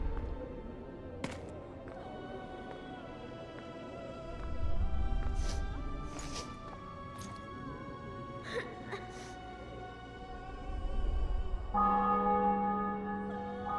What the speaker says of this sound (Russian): Колокола бьют в честь триумфа.